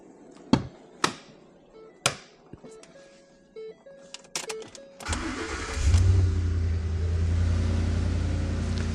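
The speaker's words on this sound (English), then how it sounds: "I'm going to go ahead and start this vehicle" A used car is started after a few clicks and thumps inside the cabin: the starter spins briefly, then the engine catches and settles into a strong, steady idle, close and clear.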